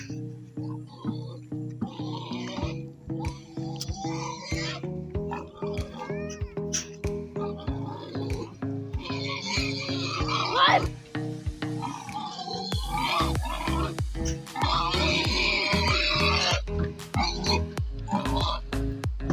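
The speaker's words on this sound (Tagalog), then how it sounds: "Papakain po kami ng baboy." Pigs feeding from a bucket on a farm, with close, loud grunting and oinking mixed with squeals and clanking throughout, under voices talking.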